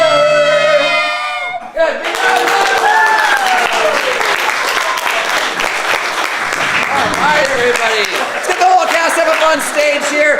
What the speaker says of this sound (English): Big round of applause for our house staff up there